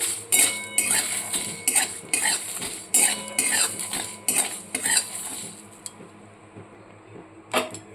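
Whole spices, including black pepper and dried red chillies, are dry roasted in a pan. A metal utensil scrapes and clinks against the pan in quick repeated strokes, the strokes thinning out toward the end. Close and fairly loud, with no talk.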